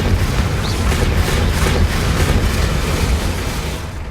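A Confringo blasting spell from Hogwarts Legacy erupts in a loud, continuous rumbling explosion that booms and roars steadily for about four seconds, dense and close with no pause.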